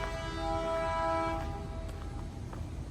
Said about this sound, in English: You can see trains coming through right now